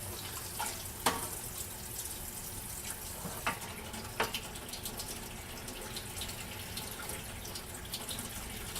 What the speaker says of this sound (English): So I'm going to get some water out of the Vesta drain tube.